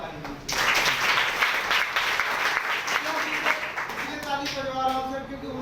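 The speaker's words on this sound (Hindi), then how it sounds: "सबसे पहले एक बार जोरदार ताली" A loud burst of crowd applause at a business meeting, steady clapping from many hands for several seconds, thinning toward the end as a voice talks over it.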